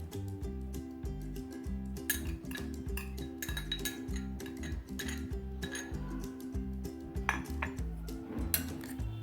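Green chilli pickle being stirred with oil in a metal pot gives steady clinks and scrapes of a utensil against the pot, repeating in a quick rhythm and heard up close.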